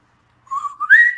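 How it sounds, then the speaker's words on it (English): A person whistles a short rising tune, one loud, clear note sliding upward to a higher pitch for about a second, heard alone. "Tell him to whistle."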